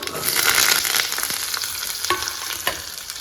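Garlic, ginger, shallots and curry leaves sizzle in hot oil for a jackfruit-seed curry, a loud bright crackle that swells early and settles, with a few sharp utensil scrapes and taps near the end.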